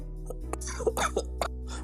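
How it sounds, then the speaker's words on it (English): A few short, muffled coughs from a person sick with COVID, close to the microphone over a steady low electrical hum, with no talking. "Pardon all the coughing and how I sound."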